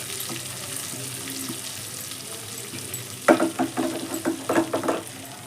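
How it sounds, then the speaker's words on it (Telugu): White brinjal with garlic coconut masala fries in a pan, a soft continuous sizzle at first, then a run of loud, rhythmic scraping stirs with the spatula over the last couple of seconds. "వెల్లుల్లి కొబ్బరి కారం మంచిగా ఇలా కలిపేస్తూ ఉంటే సరిపోతుంది వేగేంత వరకు"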